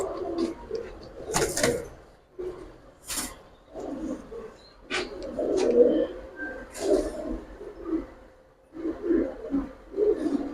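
A pair of Giribaz pigeons, a male and a female, coo repeatedly in low, throaty bursts at close range, with a few sharp knocks and a scatter of faint background voices between the calls.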